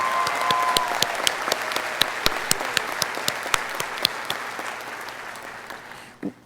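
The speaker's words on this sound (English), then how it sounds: "I'd like to give her a round of applause to thank her for all the work." Applause for a teacher fills a high school graduation ceremony, a steady wash of many hands clapping with sharp individual claps standing out, holding loud and even before thinning out and stopping near the end.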